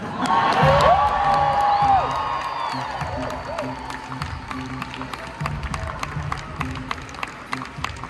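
An audience at a Real Broker event for its Hey Leo AI concierge cheers and whoops loudly at first, then the clapping and crowd noise thin out into a lower ongoing murmur.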